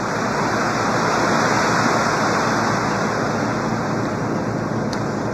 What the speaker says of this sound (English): the racket you hear is a capricious Caribbean rainstorm, winningly falling on a tin roof